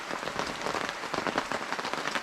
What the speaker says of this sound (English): we're just enjoying the pitter patter of rain on the gazebo